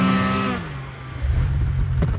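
A snowmobile engine is revved as throttle is applied while sledding in the British Columbia backcountry. A falling tone gives way to a loud, close, rumbling surge of engine power.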